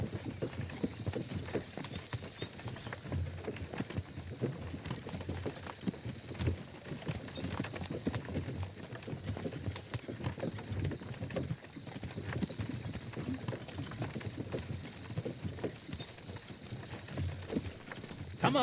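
Horse hooves clip-clop at a steady walking rhythm throughout, close and continuous, with a brief whinny-like sound possible and no talking.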